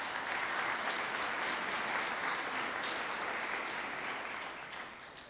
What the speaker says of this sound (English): So round of applause for all of those folks today.